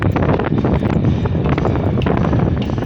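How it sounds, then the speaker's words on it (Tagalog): Strong wind roars and buffets steadily at a tower crane dismantling site across the whole stretch, loud and close, with rough gusting texture and no clear voices. "Napakalakas ng hangin"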